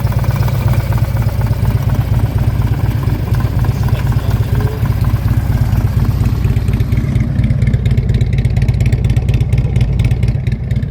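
A 2009 Harley-Davidson Tri Glide Ultra trike with a 110-inch engine, big air cleaner and S&S dual chrome exhaust idles with a loud, steady, throbbing rumble up close, continuing unbroken.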